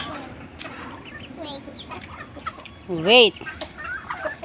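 Chickens cluck and squawk close by, with one loud call standing out near the end, while a person says a word over the birds.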